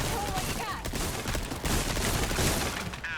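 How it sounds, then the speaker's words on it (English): Gunshots in the Resident Evil 4 Remake, several sharp reports spread across about three seconds amid game noise and clatter, fairly loud and close, with no clear talk. "some of these bullets just aren't hitting"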